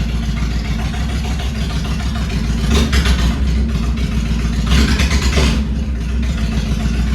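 A carbureted motorcycle engine idling while warming up, a steady loud low rumble with two brief throttle blips midway, close and alone with no voices.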